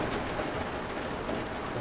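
Steady rain falls on a submarine in the game UBOAT, a dense, even hiss of close drops with no breaks across the short stretch.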